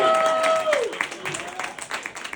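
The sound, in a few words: audience applause for comedian's six years sober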